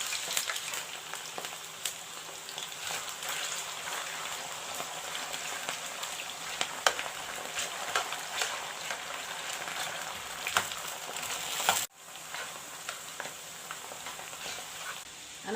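Potatoes frying in moderately hot oil, spread apart in the pan, give a steady dense sizzle and crackle throughout, with a brief sharp break near the end before the frying hiss resumes.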